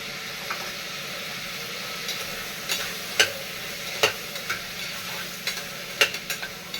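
Tomato frying in a pan for drumstick soup, with a steady low sizzle and occasional sharp scrapes of stirring, moderately quiet and close, without talk.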